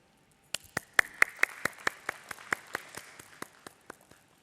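Sparse audience clapping at a stock exchange listing ceremony for Nureca Ltd, a dozen or so distinct claps in a loose irregular rhythm, fairly quiet and tapering off, with no talk.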